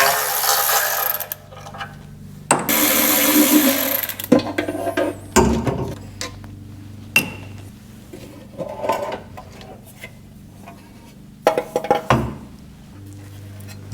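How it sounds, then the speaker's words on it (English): Fasteners are removed and a valve cover is pulled off a car engine, giving close mechanical clicks, clacks and scraping bursts separated by short pauses, with a low steady hum underneath. "we'll just take these fasteners off the top here and we can just pull this valve cover right off"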